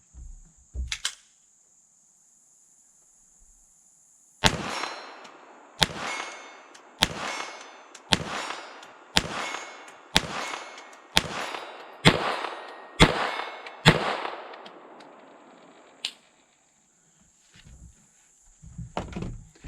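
An FN 502 tactical .22 LR pistol fires about ten evenly spaced shots, each answered by a sharp metallic ring from a steel plate at 40 yards, with a steady high electronic tone underneath and a pause before the string.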